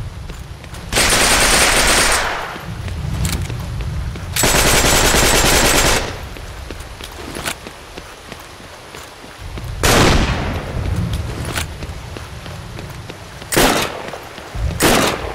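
Machine gun fire from the Heroes & Generals video game, heard as several loud, close sustained bursts separated by short gaps with single sharp shots between them.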